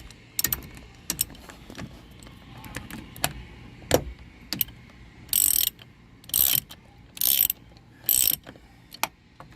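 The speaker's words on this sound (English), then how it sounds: "So I'm tightening these 3 bolts, which is bringing the helm up into the bracket, tightening it into the bracket" A ratchet wrench tightens bolts that draw a boat's steering helm up into its bracket, giving bursts of rapid clicking between scattered metallic knocks, close and fairly loud.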